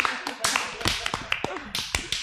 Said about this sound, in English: Clap your hands for yourself.